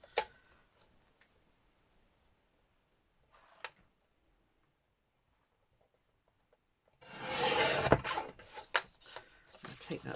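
Paper trimming on a handmade journal page, a brief faint cut near the start and another around 3.5 s, then a louder burst of rustling, scraping paper handling toward the end.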